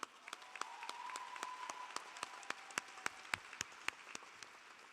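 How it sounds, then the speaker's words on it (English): Graduates and guests at a Medgar Evers College commencement clap in a soft, distant round of applause, individual sharp claps standing out over a steady wash with a faint tone running beneath. "Put your hands together and give everyone a round of applause"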